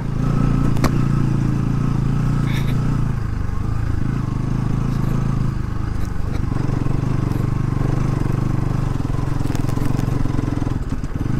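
A motorcycle rides a rough, dusty offroad track toward Manakamana in Gorkha, its engine a loud, steady drone with clattering and jolting over the uneven ground throughout.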